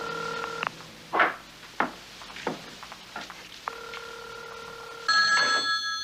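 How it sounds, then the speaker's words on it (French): A telephone rings in short electronic bursts, with a few faint clicks and knocks between the rings. "Son téléphone sonne."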